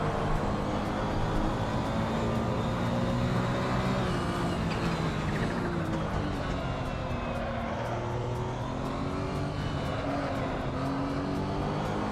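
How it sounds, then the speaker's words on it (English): Mazda MX-5 race cars in the Assetto Corsa racing game, part of a multi-class race, produce a loud, continuous engine drone whose pitch rises and falls as the cars come closer, with no talking. "Oh, here comes the MX-5s!"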